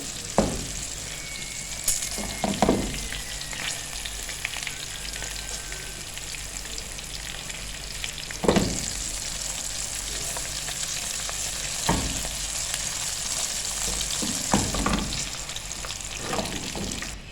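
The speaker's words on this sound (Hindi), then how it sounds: "हमारा ज़बरदस्त सा जो तड़का है ये रेडी हो रहा है, बस ज़ीरे को कलर आ जाए" A steady, crackling sizzle of cumin seeds frying in hot oil for tempering fills the clip, with occasional louder pops and stirring clinks.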